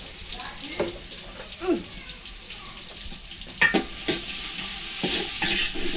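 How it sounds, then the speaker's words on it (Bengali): Oil hitting a hot pan in a village kitchen gives a steady low sizzle, with scattered stirring clinks and brief splashes on top and a louder crackle building toward the end. "তেল দিয়ে দিলাম।"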